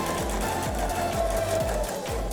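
A sewing machine sews a single welt pocket seam, its rhythmic needle thumps repeating about twice a second, close and steady throughout.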